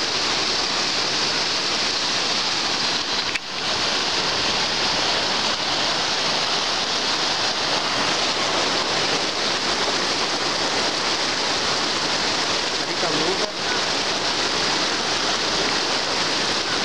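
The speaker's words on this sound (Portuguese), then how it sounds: "Muita água e pelo visto o rio não quer parar de subir." Floodwater of a rising river rushes through the Avenida Aricanduva flood in 2016, a loud, steady broadband roar of churning water that fills the whole stretch without a break, with no voices heard.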